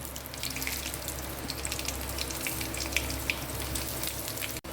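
Dry red chillies, bay leaf, fennel and cumin seeds sizzling in hot mustard oil for a Bengali tempering, a steady close crackling hiss with small pops and no talk.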